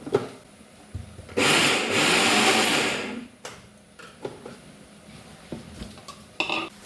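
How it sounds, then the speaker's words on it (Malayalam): A kitchen mixer grinds coconut with cumin and green chili for Onam aviyal, whirring loudly in a steady burst of a couple of seconds, then stopping, followed by quieter clinks and scraping of the jar. "നാളികേരം ഒന്ന് ഒതുക്കിയെടുക്കാം."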